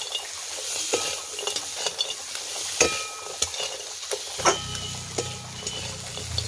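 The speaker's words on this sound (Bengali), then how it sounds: "দিয়ে একটু নেড়ে চেড়ে নেব।" A spoon stirs crabs sizzling in masala in a pan, with repeated clinks and scrapes over a constant frying hiss, close by and without speech.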